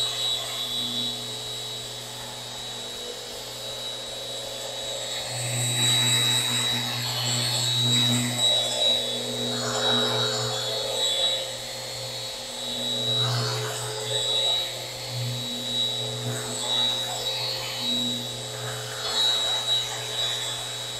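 A power sander with 180 grit paper works over a live edge wooden coffee table with epoxy, a continuous mid-level motor drone that swells and dips as the sander moves across the surface.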